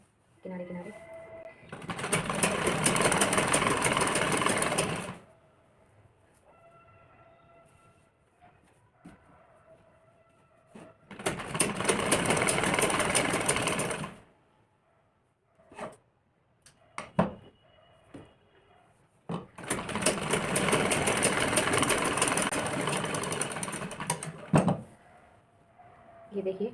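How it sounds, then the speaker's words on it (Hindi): A sewing machine runs a stitch along the edge of a blouse in three separate bursts, each several seconds long and fairly loud, with quiet handling sounds in between. "पूरे पे सिलाई मार देंगे किनारे।"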